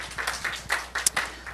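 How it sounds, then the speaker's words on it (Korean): A church congregation claps at a Korean morning worship service in Seoul, with a few scattered, uneven claps rising and falling over a short stretch rather than sustained applause. "우리 하나님께 박수 올려드려요."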